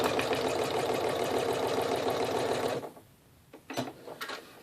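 A Janome Skyline S7 sewing machine stitches luster vinyl with a steady, fast mechanical whir for nearly three seconds. It then stops, leaving a few quiet clicks and light handling noises.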